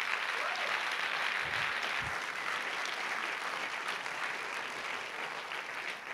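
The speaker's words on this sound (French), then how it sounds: "On les applaudit très fort, ainsi que les bénévoles." An audience at a festival opening ceremony applauds loudly, a steady and dense wash of clapping that holds for several seconds at a fairly distant, even level.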